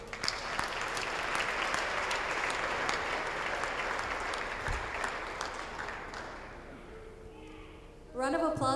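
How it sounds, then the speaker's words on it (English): An audience at a school district's League of Legends honors ceremony applauds for a trooper in a broad, steady clapping swell that fades out; a voice begins speaking at the end. "let's give him a round of applause"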